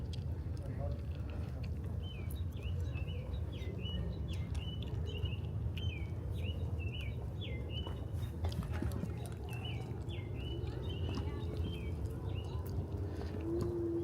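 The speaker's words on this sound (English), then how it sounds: "you can still hear birds going" Birds chirp in quick repeated bursts from a dark park at night in Toronto's Woodbine Park, steady throughout over a constant low rumble of traffic and wind.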